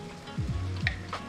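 Ground meat and minced garlic sizzle steadily in a pan for spaghetti, a close, continuous frying hiss broken by a few short scraping stirs.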